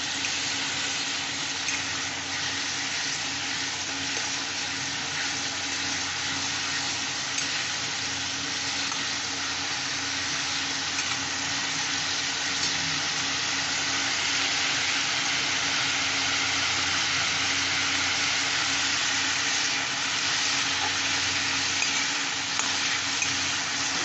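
Water poured into a pan of frying aar fish curry with black cumin and green chilies sets off a loud, steady, close sizzle that holds evenly throughout with no talking.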